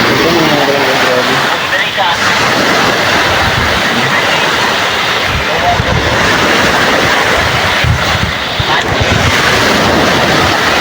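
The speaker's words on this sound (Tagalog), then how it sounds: "Sobrang lakas po kasi ng alon." Strong ocean waves surge and crash steadily onto a shore, forming a loud, continuous roar, with heavy wind buffeting the microphone. Someone talks over the noise.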